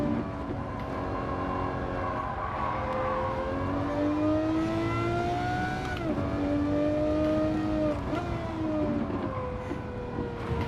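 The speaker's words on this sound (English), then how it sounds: "Oh, the car sounds fantastic." A high-revving Lamborghini engine in a racing video game drones steadily with rising and falling pitch as gears shift, loud and continuous with no talking.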